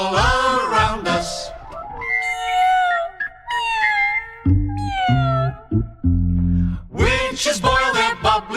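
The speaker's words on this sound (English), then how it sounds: "Cats are crooning out of tune, all around us." Cats caterwauling and meowing on a Halloween song recording, a run of drawn-out, wavering cries mixed with rhythmic music and sung passages at either end.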